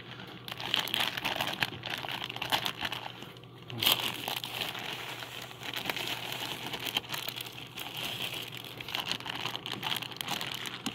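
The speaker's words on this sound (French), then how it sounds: "ici, j'émiette le mycélium" Oyster mushroom mycelium spawn crumbled by hand makes a continuous close crinkling and crumbling, with irregular rustling textures and no voices.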